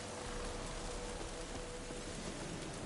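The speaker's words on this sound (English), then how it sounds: "Oh, aye, rain. Perfect." Steady rain falls in the Witcher 3 game world, a dense, even hiss of drops spread evenly throughout, with no voices or thunder.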